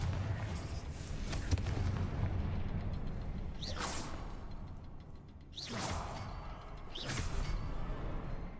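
Confringo fire spell blasts in Hogwarts Legacy, heard as three sharp whooshing bursts that flare into booming impacts, spaced a couple of seconds apart over a steady game background.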